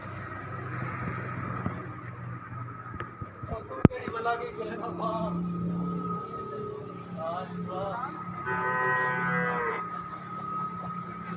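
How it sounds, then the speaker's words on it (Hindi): Cows and buffaloes with calves at a village farm near Talagang, several low moos and lowing calls against steady outdoor background noise, with a sharp knock partway through. "ये जी बहुत ही ज़्यादा तादाद में गायें ये और भैंस भी हैं"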